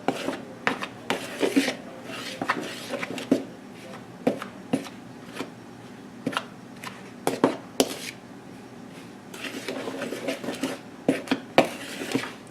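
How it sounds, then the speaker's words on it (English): Powdered monk fruit mixture being stirred in a bowl, a series of gritty scraping and rubbing strokes in an uneven rhythm, close and moderately loud with no talking. "So let's give that a little stir."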